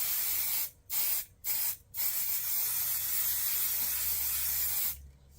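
An aerosol can sprays glue onto fabric in three short bursts, then one long steady hiss that cuts off, close and loud.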